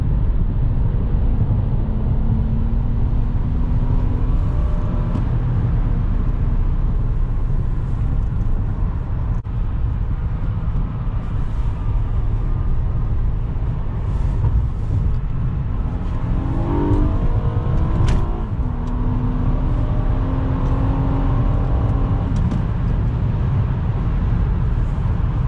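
Nismo Z sports car driving on the road, heard from inside the cabin as a steady low engine and road drone with brief rising revs, continuous throughout.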